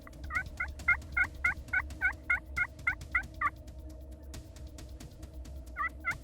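Wild turkey gobblers calling, a rapid series of about a dozen rattling gobbles followed by a pause and one more short burst, close and clear over low outdoor background.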